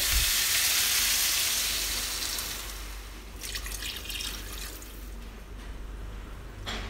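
Water pours into a pot of rawon, an Indonesian beef soup, with the seasoned meat already in. It makes a steady hissing rush with splashy drips that fade after a few seconds, close by and without talking.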